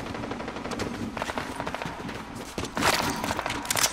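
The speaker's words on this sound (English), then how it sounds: "You hear that? Sounds like a bunch of shooters." Fortnite gunfire rattles through the whole stretch as dense, continuous automatic bursts mixed with single shots, loud and close, with a sharper volley near the end.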